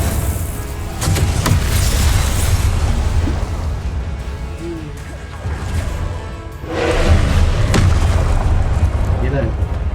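A fire-spell explosion in the Hogwarts Legacy wizarding game, heavy booming blasts and crackling impacts in a dense combat mix, with a loud surge late on and voices calling out during the action.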